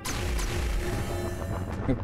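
A dense rumbling, crashing effect as enemies respawn in DOOM Eternal, with swooping tones and a low boom, continuous for about two seconds.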